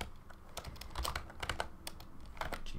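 Computer keyboard typing while editing a LaTeX file in NeoVim: quick, uneven bursts of soft key clicks, close and fairly quiet, with brief pauses between clusters of keystrokes.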